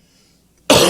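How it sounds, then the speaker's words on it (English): A single sharp, loud cough bursts out abruptly after a near-silent pause, close to the microphone and harsh, cutting off at the end. "I've got this cough"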